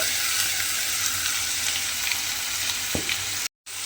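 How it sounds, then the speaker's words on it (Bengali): Potatoes fry with spice paste in a wok, a constant loud hiss of sizzling oil up close, with a brief stir knock near the end and a sudden moment of silence before the sizzle resumes. "মানে কড়াই যে আলুটা ভাজছিলাম তার মধ্যেই কিন্তু মশলাটা দিয়ে দিয়েছি।"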